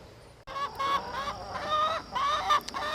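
Chickens cluck and squawk nearby, several birds calling in overlapping bursts, a few honk-like cries among them.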